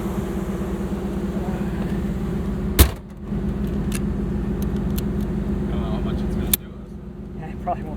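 A 1977 Ford Bronco with an Edelbrock setup drives along, its engine a steady low rumble from inside the cab, broken by a couple of sharp clicks or knocks, with talk over it.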